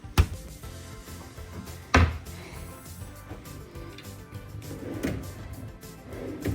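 Drawers in a hotel room slide open and shut in a few sharp wooden knocks and bumps, close and clear, with soft handling noise between them.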